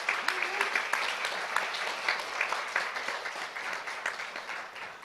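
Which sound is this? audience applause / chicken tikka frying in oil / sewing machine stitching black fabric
audience applause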